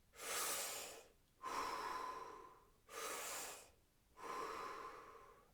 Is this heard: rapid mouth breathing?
yes